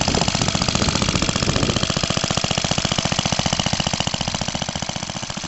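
An old Suffolk stationary engine runs at roughly a thousand RPM, belt-driving a Lucas 12v dynamo: a loud, steady, rapid thumping exhaust beat, close up and unbroken, with no talk.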